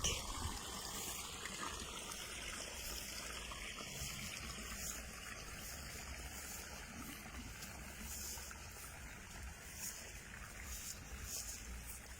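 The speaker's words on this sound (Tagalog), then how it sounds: "Lakas ng tubig." Steady rush of strongly flowing water, continuous and noisy, close by, with no voices over it.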